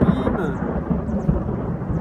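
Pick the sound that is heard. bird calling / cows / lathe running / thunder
thunder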